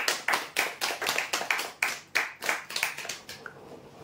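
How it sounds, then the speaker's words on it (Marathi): Hands clap in a quick, fairly even rhythm at a prize draw event, about a dozen distinct sharp claps over a few seconds that thin out toward the end, with no talking. "जोरदार टाळ्या होऊ द्यासाठी"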